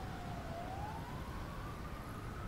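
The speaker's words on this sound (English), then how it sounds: "Ah, the sound of sirens." Police siren wailing in a city from the train simulator game Train Simulator Classic on the North London Line, one continuous rising and falling wail held steadily over a dense rumble of traffic and ambient noise.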